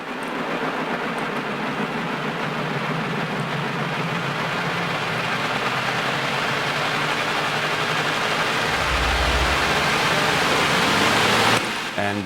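A synthesized organic rise effect, duplicated and pitched down an octave in Ableton Live, plays as a dense, steady rush of broadband noise that swells slightly toward the end before cutting off abruptly.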